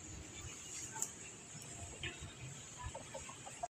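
Domestic chickens and roosters at a backyard coop give soft, scattered clucks over steady outdoor background noise, fairly faint and a short distance away.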